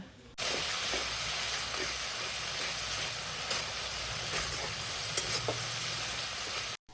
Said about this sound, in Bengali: এবার সব কিছু একসাথে ভালোভাবে মিশিয়ে নেব